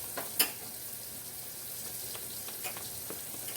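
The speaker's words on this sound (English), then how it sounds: "I do it with the fork, then I use the whisk." Gravy is stirred in a hot pan with a fork, producing a soft, steady sizzle under light scraping taps and one brief clink near the start.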